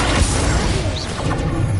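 The Incendio fire spell in Hogwarts Legacy sounds as a loud rushing burst of flame with a whooshing, crackling texture and a short swishing flourish partway through, with no voices.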